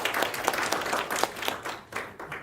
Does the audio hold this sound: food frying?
no